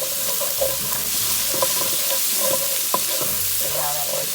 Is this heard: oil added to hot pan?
yes